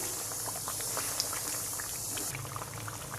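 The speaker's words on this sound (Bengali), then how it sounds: "এবার আরও একবার আমি হালকাভাবে নেড়ে দিচ্ছি" Olive pickle in oil with sugar syrup is gently stirred in a pan, giving a steady bubbling, simmering hiss with soft scattered pops and light scraping throughout.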